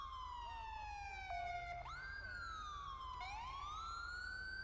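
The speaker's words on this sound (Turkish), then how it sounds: "Bu arada araçlarımızın sirenleri gayet başarılı bakın." A police car siren in GTA 5 with a traffic police mod wails and then switches to a rising yelp, loud and continuous, over a low engine rumble.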